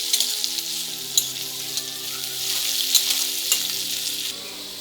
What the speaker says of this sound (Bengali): পেঁয়াজটা ভালোভাবে ব্রাউন করে ভাজতে হবে, ততক্ষণ পর্যন্ত নাড়াচাড়া করে যাও।